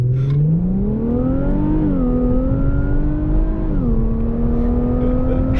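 Infiniti Q60 pulling hard at wide-open throttle at night, engine note climbing steadily, dipping briefly at each upshift and rising again, loud and close from inside the car with no talk.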